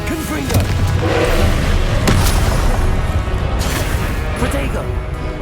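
Spell explosions from the Confringo fire spell in the video game Hogwarts Legacy, loud booming bursts and crashes over dense, continuous combat noise and a game soundtrack.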